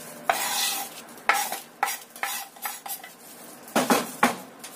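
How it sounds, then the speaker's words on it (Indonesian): Garlic, spring onion and chili are stirred into tofu in a pan: a utensil clacks and scrapes against the metal in a quick, irregular series of knocks over a light sizzle. "Kita aduk lagi sampai semuanya tercampur rata."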